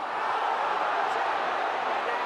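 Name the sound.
rugby league crowd appealing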